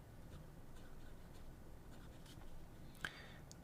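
Aurora 88 fountain pen with an 18 karat flex fine nib scratching softly across paper, a faint continuous scribble with a sharper tap near the end.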